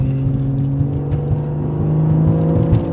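Exhaust note of a BMW on a 3 to 2 downshift in sport mode: a steady, loud engine drone with irregular low pops and crackles spread throughout, close and continuous, with no talking.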